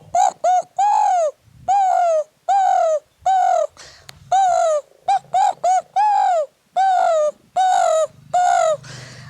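A man imitates a dove's cooing, giving a long series of clear, loud, rhythmic hooting coos with short pauses between them, close to the microphone.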